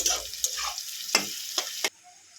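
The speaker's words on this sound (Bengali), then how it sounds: "তারপরে পেঁয়াজটা দিয়ে ভেজে নেব এবারে" Onions fry in a pan with garam masala, a sizzling hiss broken by several sharp stirring clacks of a utensil, the sizzle dropping away abruptly near the end.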